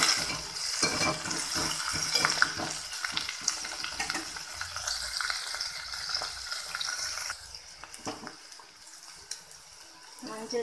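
Fenugreek, cumin, onion and curry leaves frying in hot oil in a pan, a continuous close sizzle with stirring scrapes that quiets toward the end.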